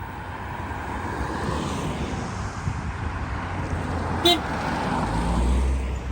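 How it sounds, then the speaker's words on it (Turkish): Steady stream of cars passing on a road, a continuous broad traffic roar with a brief horn-like toot midway and the rumble building toward the end. "çok araba geliyor"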